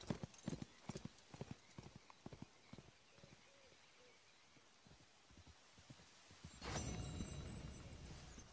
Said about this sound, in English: thank goodness that my horse is now here